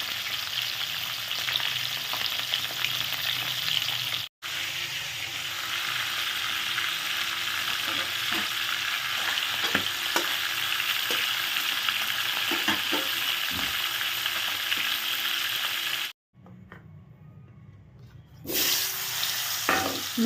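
Fish heads dropped into hot oil and frying, giving a loud, dense, continuous sizzle with scattered stirring knocks, then a brief drop to near silence before the frying returns.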